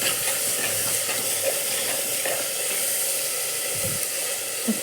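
Onions and tomatoes sizzle in a pan for sambar, giving a steady close frying hiss with a few small clinks and stirring sounds, and no talking.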